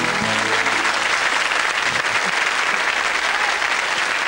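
A studio audience at a 1993 French television show featuring Hélène et les garçons applauds wildly, with steady loud clapping and cheering throughout.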